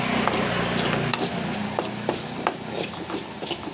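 Chopped garlic is stirred in a pan with chilli powder, turmeric and fenugreek powder. Irregular scraping and tapping strokes of a utensil repeat over a low background hum, with no talking.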